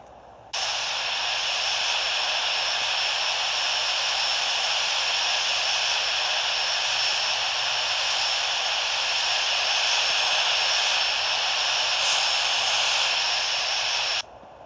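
Airbus A321 jet engines spooling up on a takeoff roll in a flight simulator game, a loud steady roaring hiss that starts abruptly, holds for about fourteen seconds and cuts off sharply, with no talk.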